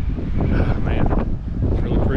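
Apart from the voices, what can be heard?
strong wind blowing on a motorcycle ride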